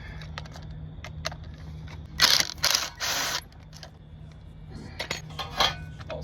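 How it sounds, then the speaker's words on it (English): Clicking and ratcheting from a T30 star bit backing screws out of the brake caliper on a 2016 Honda HR-V, with a few louder bursts of driver whirring and metallic clatter over a low steady hum, close up. "we have to take out 2 screws with this T30 star bit"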